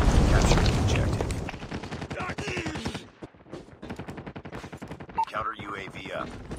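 Rapid gunfire crackles through a Call of Duty Mobile multiplayer match, a dense, loud burst at first thinning into quick repeated shots, with in-game voice callouts overlapping the later firing.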